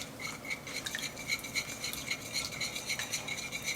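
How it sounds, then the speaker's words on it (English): Banana bread batter ingredients being whisked in a bowl, quick repeated clinks and scrapes of the whisk against the bowl in a steady rhythm, fairly faint and close. "we're just going to whisk all these ingredients together"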